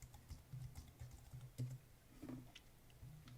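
Quiet taps of someone typing a login username on a Mac computer keyboard, a quick uneven run of light keystrokes with small pauses, close and soft with no talking.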